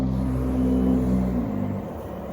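An HG P802 Oshkosh HEMTT radio-controlled truck with a modified motor running in second gear: a close, steady electric motor and gear whine with a low rumble that drops in level near the end of the short clip.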